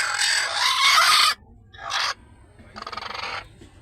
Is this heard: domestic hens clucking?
yes